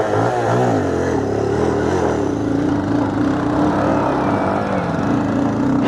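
An off-road vehicle engine on a rough mountain trail near Munnar and Vattavada, straining and revving hard under load, loud and close throughout with a sustained harsh roar.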